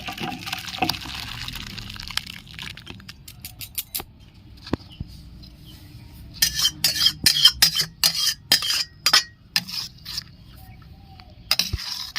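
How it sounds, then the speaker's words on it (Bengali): Bitter moong dal cooked with bottle gourd, bitter gourd and drumsticks is poured out of a pot, giving soft wet splats, patters and scattered clinks of utensils in bursts that come and go, fairly quiet and close. "ডালটা আমি ঢেলে নিচ্ছি"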